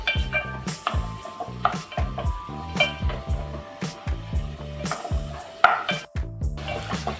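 Pav bhaji vegetables are sautéed in a pan, with a spatula scraping and stirring in a steady rhythmic beat about twice a second over a soft sizzle, close by and without speech.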